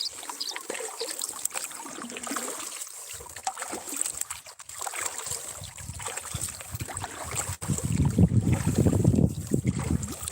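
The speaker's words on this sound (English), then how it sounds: "I know I've been paddling for like 40 minutes." Kayak paddling on open water, with splashing strokes and water movement under steady wind noise, growing louder and busier toward the end.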